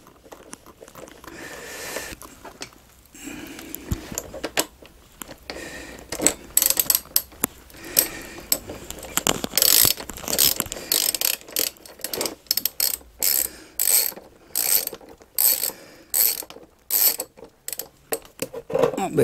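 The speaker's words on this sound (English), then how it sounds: "Screwing everything back." Tools ratchet and click while brake parts on a Yamaha Fazer 600 motorcycle are screwed back together, the sound building into quick bursts of close, sharp ratcheting with short pauses between them.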